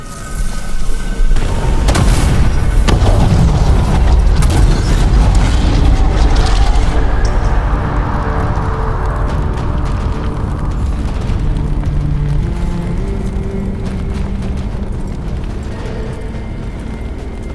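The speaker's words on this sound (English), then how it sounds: "Blight eruption was pretty spooky." A blight eruption in the video game Dragon Age: The Veilguard: a loud, deep rumbling boom that holds heavy for several seconds, then slowly fades into a lingering low roar, with no voices.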